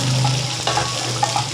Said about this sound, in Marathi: चार सुक्या मिरच्या घालते मी ह्याच्यामध्ये लाल.